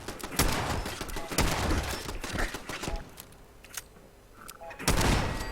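Rapid bursts of automatic turret gunfire in Fallout 4, loud and close, with heavy thuds and impacts coming in clustered volleys and a short lull before a final loud burst.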